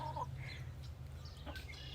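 Hens clucking in a chicken coop on an early spring day, a few soft close clucks and squawks over a quiet, low rumbling background.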